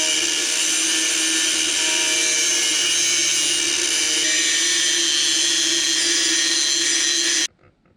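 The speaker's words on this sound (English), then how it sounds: "I'm gonna go grind a couple little notches out of that real quick" An angle grinder cuts small notches into a Ford 9 inch rear axle for a 1965 Dodge Dart, a loud, steady, high-pitched grinding whine held continuously before stopping abruptly near the end.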